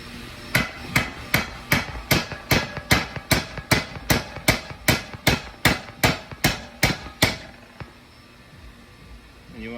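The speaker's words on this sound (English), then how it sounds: "I'm going to take the socket that I had that close to that size and tap it down the rest of the way" Hammer tapping a socket down onto a driveshaft part, about fifteen sharp metallic strikes in a steady rhythm, loud and close, followed by a quiet pause.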